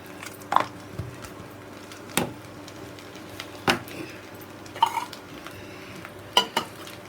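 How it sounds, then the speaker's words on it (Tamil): Onion vadagam tempering in sesame oil on the stove, with a soft, continuous frying hiss beneath a handful of spaced clinks and scrapes of a utensil against the pan. "இப்போ தாளிப்புக்கு வடகம், இந்த வெங்காய வடகம் கொஞ்சம் நல்லெண்ணெய் போட்டிருக்கேன் நான்."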